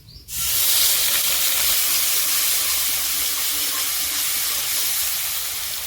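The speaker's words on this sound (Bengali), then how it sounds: "কালো জিরে ফোড়ন দিয়ে দিচ্ছি টমেটো বাটাগুলো দিয়ে দিচ্ছি" Tomato paste hits hot oil tempered with black cumin, bursting into a loud, steady hiss that starts abruptly and holds near and strong, easing only slightly toward the end.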